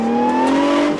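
2017 Jeep Trailcat engine revving hard while accelerating off road, a loud, close, steady high-pitched roar that holds for about a second, with no voices.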